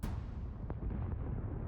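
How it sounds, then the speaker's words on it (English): A naval ship's battery of cannons fires together, a loud opening blast followed by a low rumbling roar and a few further dull booms trailing off, with no voices. "When you have about 30 cannons firing more or less at the same time, first of all, it's very noisy"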